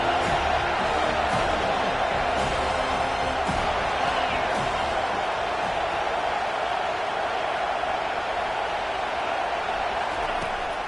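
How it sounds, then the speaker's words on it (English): A stadium crowd in a college football video game, Clemson at FSU, roars continuously on third down, a broad, steady wash of noise with faint thuds and cheers inside it. "Decibels rising as the crowd gets behind this defense on 3rd down."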